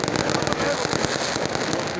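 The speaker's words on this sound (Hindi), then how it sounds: "शानदार आतिशबाजी नज़ारा किया जा रहा है।" Dense crackling bursts and booming pops of fireworks going off continuously at a political rally in Peshawar, loud and close, with faint voices mixed into the din.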